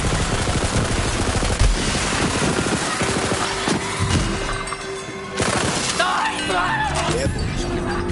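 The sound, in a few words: machine gun fire in Borderlands video game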